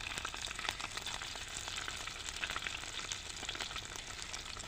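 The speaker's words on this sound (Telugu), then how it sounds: "గోరొచ్చ నూనెలో నాలుగు చెంచాలు అల్లం వెల్లిపాయ వేసుకోవాలి" Ginger garlic paste frying in warm oil for a mutton pickle, a loud, continuous close-up sizzle with dense crackling and no voices.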